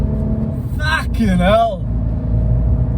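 A Fiat 500 Sport car takes bends at 100 km/h, its low engine rumble and road noise droning steadily inside the cabin beneath a man's brief exclamation.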